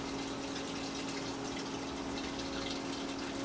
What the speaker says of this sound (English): he's got an aerator strapped to it to put bubbles in there